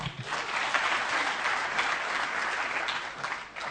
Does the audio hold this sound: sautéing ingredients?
no